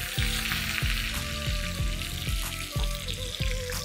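Mustard seeds, cumin and soaked dal sizzle and crackle in hot oil for a chaddannam tempering, with a steady loud fry hiss and repeated sharp pops and spatters roughly every half second, no voices.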